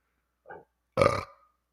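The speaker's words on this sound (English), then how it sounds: "Makes you burp." Two burps follow a drink from a 12-ounce can, a short soft one and then a louder, longer, throaty one, close up against silence.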